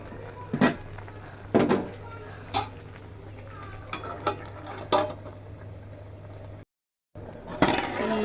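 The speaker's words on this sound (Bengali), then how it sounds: "নেড়ে ছেড়ে দিয়ে আবার ঢাকনা বসে দিচ্ছি" Cooked Malabar spinach is stirred in a pot, with several distinct metallic scrapes and knocks of a spoon against the rim, then the lid clatters back on. A low hum runs underneath and there is a brief dropout.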